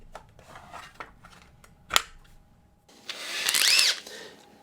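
A 25mm Forstner bit bores a mortise hole into a wooden stool seat, giving a rising whirring grind after scattered taps and one sharp knock, close and fairly loud.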